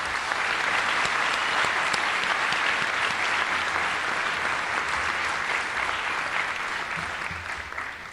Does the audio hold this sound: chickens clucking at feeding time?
no